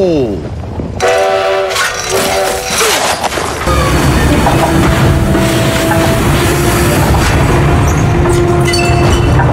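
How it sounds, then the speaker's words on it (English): Minecraft train in a Polar Express replica ride, accelerating uncontrollably on the rails: a loud, continuous rumbling run with repeated horn-like tones near the start, then a dense steady roar of the moving locomotive. "The train appears to be accelerating uncontrollably"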